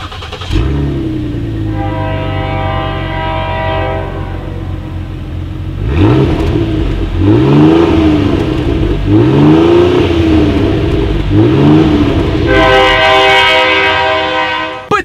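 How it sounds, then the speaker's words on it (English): A 2019 Ford Explorer with dual exhaust idles with a deep, steady hum, then gets several quick throttle blips that swell and fall one after another before the engine climbs again at the end. "As always, here is that exhaust clip."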